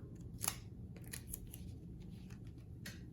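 Scissors snip through a piece of card in a few quiet, crisp cuts, close by, with soft handling noise in between.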